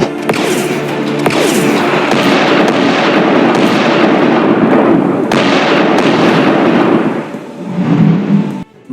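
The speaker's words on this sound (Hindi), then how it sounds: "उधर शिप के अंदर से स्मगलर लगातार फायरिंग कर रहे थे।" Continuous dense gunfire from smugglers aboard a ship in a cartoon, loud, rapid and unbroken bursts of popping shots with a few heavier cracks, easing slightly near the end.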